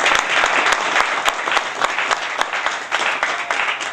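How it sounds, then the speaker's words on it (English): Sustained applause from a crowd at a groundbreaking ceremony, honoring the Montour Trail Council board of directors; dense, steady clapping with no talk over it. "round of applause for those folks"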